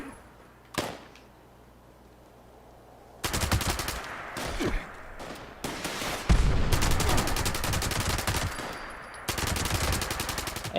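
Rapid Thompson submachine gun bursts in Fallout 76, a single early shot, then long sustained automatic strings broken by short gaps, loud and close, with no talking.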